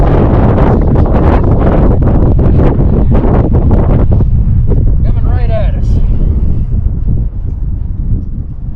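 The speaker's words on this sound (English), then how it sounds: "Wind gust coming right at us." A strong wind gust on a golf course roars and buffets the microphone throughout, loud and steady, while someone speaks briefly over it.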